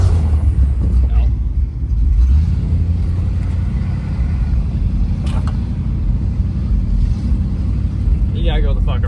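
A junk 1976 Chevrolet Nova engine runs rough at idle with no throttle, giving a loud, steady low rumble throughout, with faint background noises near the end.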